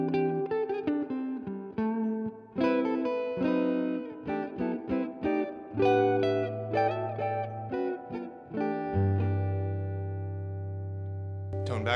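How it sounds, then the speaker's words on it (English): A Fender George Harrison Rosewood Telecaster electric guitar, tone knob rolled down, plays a melodic run of single notes and chords with a soft, mellow tone, ringing out on a sustained final note. "roll the tone down on the guitar, and then you can get some of those softer tones"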